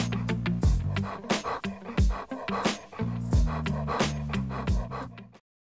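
A dog whimpers and yips in short, repeated bursts close by, with soft panting between, over background music until the sound cuts off.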